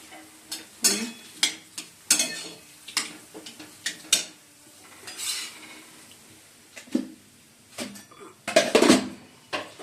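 Potato curry stirred in a kadai with ghee and black pepper, with a spoon repeatedly scraping and knocking against the metal pan in irregular bursts and a faint sizzle beneath.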